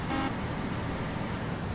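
A short car horn toot sounds once in the Bus Driver video game, a brief honk over steady low traffic and engine rumble.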